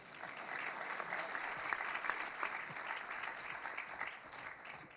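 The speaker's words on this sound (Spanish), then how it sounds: "bueno, aplaudan." Audience applause at a tribute event, steady dense clapping from a crowd lasting throughout, moderately loud with a few scattered voices faintly underneath.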